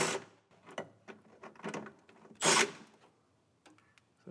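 Bolts on a 2014–2020 Chevrolet Silverado or GMC Sierra running board are backed off with a 13 mm tool, making a string of close mechanical clicks and ratcheting ticks with a louder burst midway and quiet gaps.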